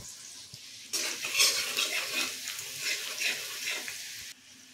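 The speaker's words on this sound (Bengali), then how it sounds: "এই গরম তেলে আমরা দিয়ে দিচ্ছি কেটে রাখা আদা রসুনের কুচি" Chopped ginger and garlic hit hot oil with a sudden loud sizzle that crackles and spatters steadily for a few seconds, then cuts off abruptly.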